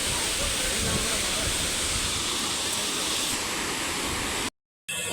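A small waterfall near Pokhara, Nepal, pours as a steady, loud rush of broadband water noise close by, cutting off abruptly near the end.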